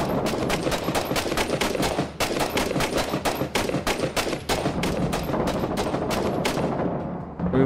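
Rapid automatic gunfire from the Six Days in Fallujah video game, dense bursts of shots crackling almost continuously and loudly with only brief gaps.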